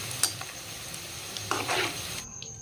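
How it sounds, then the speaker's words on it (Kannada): Egg lollipop balls frying in hot oil give a soft, steady sizzle, with a few light clinks and stirring scrapes from a utensil, close and quiet. "ಇದ ಒಂದು ಮೂರಿಂದ ನಾಲ್ಕು ನಿಮಿಷಗಳ ಕಾಲ ಫ್ರೈ ಮಾಡ್ಕೊಂಡ್ರೆ ಸಾಕು ನೋಡ್ರಿ"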